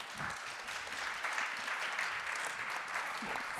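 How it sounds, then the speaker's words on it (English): A round of applause for a conference panel, steady dense clapping from an audience heard at moderate distance, sustained for a few seconds without pause. "Let's have a round of applause for our panel."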